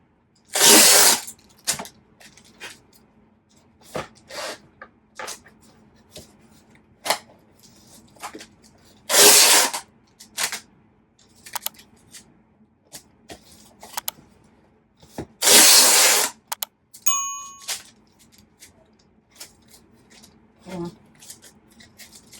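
Packing tape is ripped off a roll in three loud, harsh screeches and pressed onto a cardboard shipping box, with softer rubbing, patting and handling sounds between the pulls, all close up.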